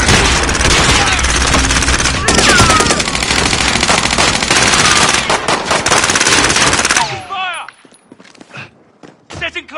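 Sustained rapid machine gun fire in a first-person shooter battle, loud and dense for several seconds with overlapping bursts and shots, then cutting off to scattered faint clicks and impacts, with voices calling out over the gunfire.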